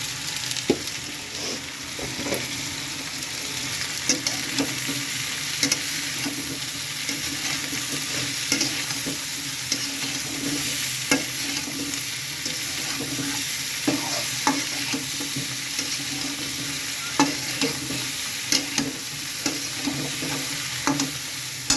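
Curry sizzling and frying in a pan while being stirred, a continuous soft crackle broken by scattered scraping clicks from the spoon, steady and close throughout.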